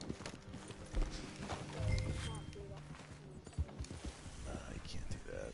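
Horse hooves clip-clop in a video game as a horse is ridden, a quick, fairly close rhythm of hoofbeats with an occasional snort, under people talking.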